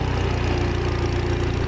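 Small loader tractor engine running steadily on a farm, a close, continuous low chugging rumble with a faint mechanical hum, no voices over it.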